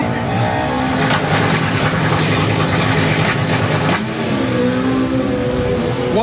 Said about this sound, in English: Danny Cockrell really enjoys racing in Super Street